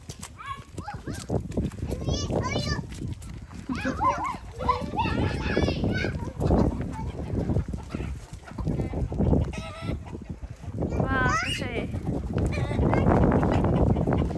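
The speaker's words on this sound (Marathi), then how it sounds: "कोंबड्या बघ कशा पळतात" Chickens cluck and squawk in a village yard while scurrying about, with short bird calls scattered between frequent nearby talking voices.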